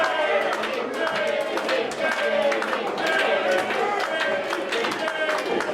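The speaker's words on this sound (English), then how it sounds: "Mixed crowd reactions here." Wrestling crowd at a live pro wrestling show giving mixed cheers and shouts, a dense, steady roar of many voices with scattered claps throughout.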